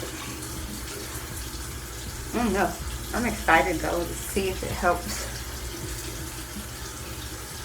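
Lukewarm tap water runs steadily from a faucet to rinse off a turmeric and honey face mask, a constant wash beneath someone speaking in the middle of the stretch.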